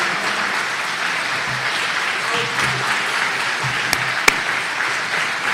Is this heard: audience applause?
yes